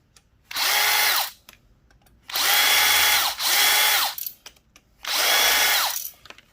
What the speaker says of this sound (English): Want to take out the screws out of them.